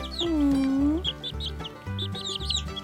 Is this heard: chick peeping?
yes